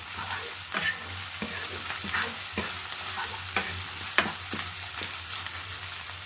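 Ginger garlic paste frying in mustard oil, a quiet steady sizzle broken by a regular series of sharp spatula taps and scrapes against the pan, close up.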